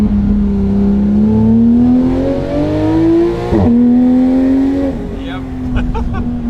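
Close, loud exhaust from a Porsche GT3 RS heard with the window cracked: a smooth engine note that climbs in pitch, dips sharply mid-way, then rises again, with voices briefly over it.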